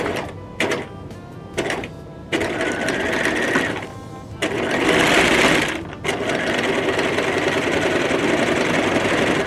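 A sewing machine straight-stitches bias tape onto a T-shirt in several rapid whirring bursts, short runs at first, then longer steady stretches separated by brief pauses, loud and close.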